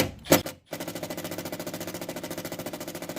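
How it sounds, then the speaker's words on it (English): A drill bores out self-tap holes in Mazda Miata overfenders for rivet nuts, a loud rapid rattling chatter after a brief burst and pause, close and steady with even pulses. "LSD is drilling the self-tap holes bigger so he can fit the riv nuts in there"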